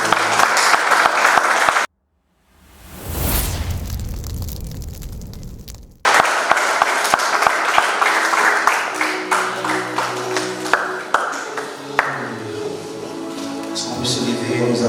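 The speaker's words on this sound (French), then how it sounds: "Est-ce qu'on peut se lever et acclamer?" A church congregation bursts into loud sustained applause and cheering, briefly cut by a silent gap, then clapping continues with crackling, rain-like density and a voice rising over it.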